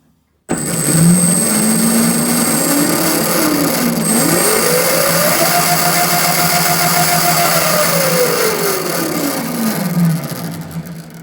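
The chain and sprockets of a homemade Ferrari go kart drum loudly up close as the drive spins up. A whining tone rises, holds steady, then falls away as it slows, all under a continuous rattling roar.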